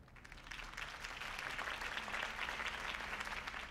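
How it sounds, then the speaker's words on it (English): Steady crowd applause in a video game, Batman: The Telltale Series, dense and continuous, with a faint hum underneath and no voices over it. "could have heard that applause"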